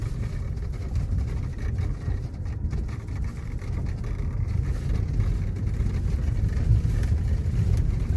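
Cars pass on a road near Khabarovsk, heard as a steady low road rumble and engine noise that continues throughout, with no voices.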